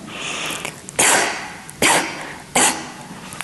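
Three sharp coughs, close and loud, spaced about a second apart, preceded by a breathy exhale.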